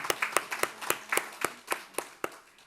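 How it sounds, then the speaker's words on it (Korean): A church congregation in Korea claps in unison at a Sunday service, producing sharp, evenly spaced claps at about four per second, a steady rhythmic beat heard alone without talk. "우리 서로에게 함께 축복의 박수를 나누겠습니다"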